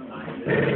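A puppy growls low and steadily up close, the rumble swelling louder partway through.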